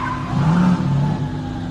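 A car's engine revs up during a joyride, a loud, close growl that rises and then eases off with no voices.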